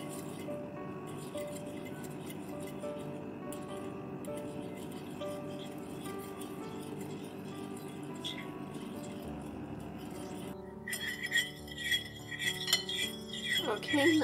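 A utensil clinks and scrapes against a bowl while French toast batter with sugar is mixed, steady close tapping and stirring that grows busier and louder toward the end.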